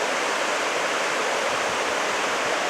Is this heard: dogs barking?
no